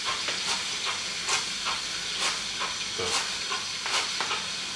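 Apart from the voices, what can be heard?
cutlets frying slowly in a pan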